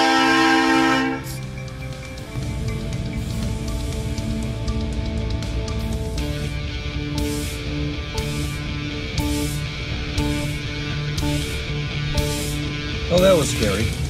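A Hobo Railroad train rolls past close by in Andover, Maine, a steady loud rumble of wheels on track with a brief horn blast near the start and sharp squeals toward the end.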